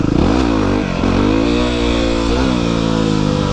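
A Yamaha WR250R motorcycle revs hard and close in a failed wheelie attempt on an empty road, its loud engine note rising and dipping through quick throttle changes with a brief drop before climbing again.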